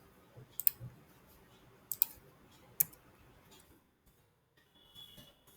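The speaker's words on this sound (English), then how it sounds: "make sure always click on the active checkbox" A computer mouse clicks a checkbox, three short sharp clicks spaced about a second apart in a quiet room, close and faint.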